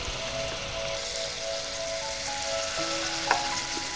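Spice tempering sizzles and crackles steadily in hot oil for a rice dish, a continuous close frying hiss with a small pop near the end and no talking.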